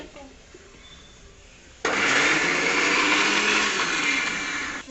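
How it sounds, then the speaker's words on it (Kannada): A kitchen mixer grinder (mixie) grinding sweet food kicks in abruptly and runs as a loud, steady whine after a few quiet seconds, with faint talk beforehand. "ನೋಡಿ ಸ್ವಲ್ಪ ಮಿಕ್ಸಿ ಹಾಕಿ"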